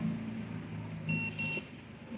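Glucometer beeping when a test strip is inserted, two short electronic tones close together, fairly clear above a low room hum.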